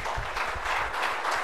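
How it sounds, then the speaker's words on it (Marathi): An audience gathered for a birthday celebration applauds loudly, a dense, continuous burst of clapping from many hands nearby, with no talk over it. "जोरात टाळ्या वाजवूया"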